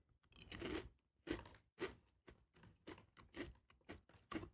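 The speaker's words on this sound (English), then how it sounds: "It's very crunchy." Repeated crisp crunching and biting on a Korean rice snack, about nine sharp bites in a steady rhythm, close to the mic and fairly quiet, with no talking.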